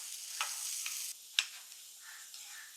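Chopped onion, green chilli and curry leaves sautéing in a pan after mustard seeds, giving a steady soft sizzle with stirring scrapes and a couple of sharp utensil taps, no talking.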